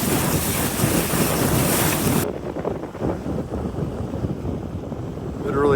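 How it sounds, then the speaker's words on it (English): A Cabo Rico 42 Pilothouse sailboat under a 135 genoa moves through Desolation Sound, with wind rushing and water washing against the hull, loud at first, then quieter after an abrupt drop, and a faint voice briefly audible. "Sailing just with a 135 Genoa"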